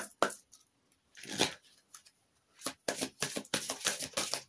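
Oracle cards shuffled by hand for a reading, a run of crisp riffling bursts with short pauses, then quicker, denser flicks toward the end, close and clear with no talk.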